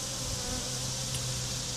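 Honey bees swarm around an open hive during a colony split check, a dense steady drone that hangs evenly throughout, close and unbroken, with no voices.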